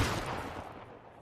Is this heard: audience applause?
no